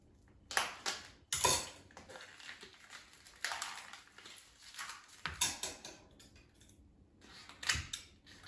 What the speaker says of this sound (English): I'm going to open a package of sausage patties.